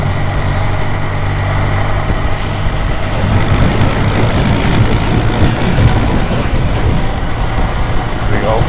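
A Kawasaki W800 motorcycle engine in fifth gear at 80 km/h drones steadily and loudly, with a low hum and wind rush that stay constant throughout.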